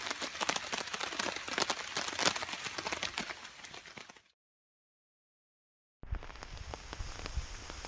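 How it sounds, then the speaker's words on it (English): Rain falls steadily on a trail, a dense close patter of drops on surfaces that cuts out abruptly for a couple of seconds before resuming just as thick. "Raining."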